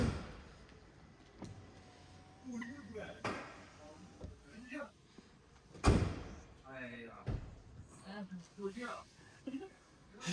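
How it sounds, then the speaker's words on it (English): People talk as the hood of a 2025 Changan Deepal SL03 PHEV is pushed down with great force and slams shut with a heavy thud, among a few lighter knocks. "See, it really takes too much force to close the engine bay."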